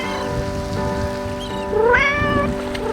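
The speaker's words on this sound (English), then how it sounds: "Yet the cat's voices rise through the rain, mysterious and intriguing." Cats meow in the rain, with one clear rising meow standing out against a steady hiss of rainfall and faint tonal background hum.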